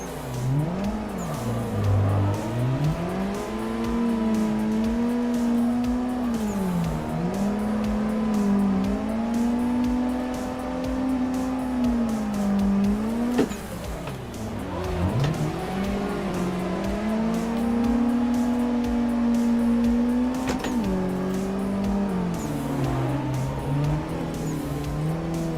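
Racing car engine and tyres in an Assetto Corsa circuit drifting session, a loud continuous engine drone rising and falling with revs and gear changes, with brief tyre squeal and sharp shifts, and no talking.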